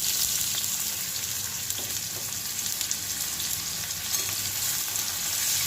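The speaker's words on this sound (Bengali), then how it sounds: "এবার আমি কড়াইয়ের মধ্যে পেঁয়াজ কুচো দিয়ে দিলাম" Chopped onion frying in oil in a kadai, an even, close hiss of sizzling with faint crackles and occasional stirring scrapes, no talk.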